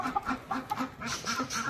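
Backyard chickens being let out of their coop cluck in short, repeated bursts, close and moderately loud, with a brief bird-like squawk partway through.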